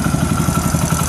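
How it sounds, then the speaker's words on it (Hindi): A Honda CD100 motorcycle engine, freshly assembled, idles steadily at close range with an even low chugging pulse and light mechanical clatter, no voices. "बाइक स्टार्ट हो गया यहाँ पे और साउंड हमारा ठीक है।"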